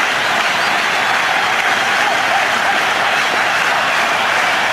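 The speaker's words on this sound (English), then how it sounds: "So a big cheer here." A cricket stadium crowd in Sharjah cheers and applauds during an India innings, a loud, continuous roar of clapping and voices filling the whole stretch without letup.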